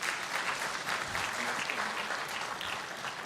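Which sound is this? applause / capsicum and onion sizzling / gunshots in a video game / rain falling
applause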